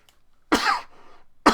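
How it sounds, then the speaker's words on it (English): A person coughs into their elbow during a lecture, with one harsh, close cough burst followed by a quieter rasping tail, then the start of a second cough. "Yes, I did cough into my elbow."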